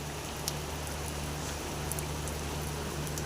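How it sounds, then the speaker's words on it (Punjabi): Steady, dense heavy rain falling continuously in Mamdot, Ferozepur district, Punjab, a constant hiss with a low hum underneath. "ਇਸ ਵਕਤ ਫੁੱਲ ਬਾਰਿਸ਼ ਪੈ ਰਹੀ ਹੈ"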